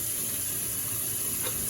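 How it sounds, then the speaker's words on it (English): Tap water runs steadily over oxtails in a sink, a close, constant rushing stream with no talk. "I'm gonna run some water"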